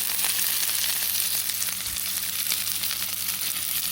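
Meatballs fry in a hot pan and are turned over one by one, producing a dense, even, continuous sizzle close up with no talking.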